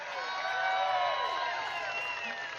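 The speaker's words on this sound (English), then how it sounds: "Give him a round of applause." A crowd at a political rally in Pensacola cheering and whooping loudly and continuously, a dense wash of voices with some clapping mixed in.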